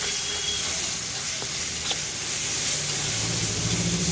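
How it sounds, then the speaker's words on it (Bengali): Ginger garlic paste fries with browned onions in a pan, making a loud, continuous close sizzle with faint occasional stirring sounds and no talking. "রসুনটা একটু ভেজে নিলাম।"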